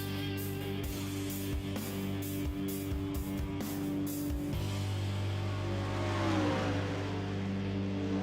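A 410 sprint car engine in a racing video game at a big dirt track drones steadily, with a pulsing, stuttering stretch early on before the pitch sweeps as the car accelerates, loud and continuous with no talk.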